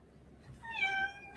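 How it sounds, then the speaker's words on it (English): A house cat gives one drawn-out, rising-and-falling meow close by, clear and moderately loud over a faint room hiss, with no talking. "I love your meow, Earl."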